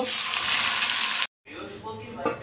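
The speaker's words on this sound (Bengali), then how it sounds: "এইদিকে চিকেনটা বসিয়ে দিয়েছি, এখন কষানো হচ্ছে" Chicken sautéing in a wok gives a loud, bright sizzle that cuts off abruptly, then returns quieter with soft stirring and faint speech over it.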